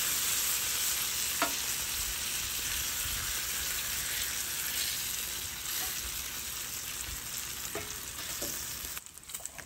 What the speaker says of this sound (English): And let's flip this bacon again.